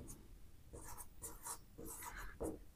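Scratchy strokes of writing on a board during a lesson on land measurement units, coming in short, close bursts with pauses between them and no talk over them.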